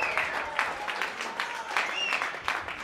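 Spectators in Minnesota clap and cheer after a long rally in a pickleball match, with scattered bursts of applause and excited whoops from a moderate distance.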